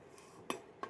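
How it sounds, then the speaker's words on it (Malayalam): A lid is set down on a pot of chicken biryani, giving two close, quiet metallic clinks less than half a second apart, with no talk. "നമുക്കിത് മൂടി വെക്കാം."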